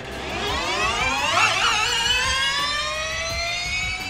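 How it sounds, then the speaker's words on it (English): A fully electric Formula E race car sweeps past with a high, rising-then-falling electric whine, loud and close, its pitch sliding downward as it moves away, with no voices. "The most outstanding thing about Formula E cars is that they're fully electric."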